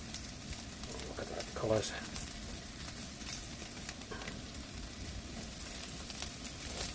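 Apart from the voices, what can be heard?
tempeh frying and crisping in a pan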